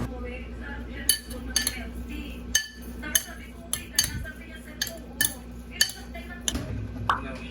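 Utensil scraping and clinking against a pan while food is stirred, a simple home-cooked Filipino dish. Sharp metallic taps land about once a second over a steady low background hum, with no talk.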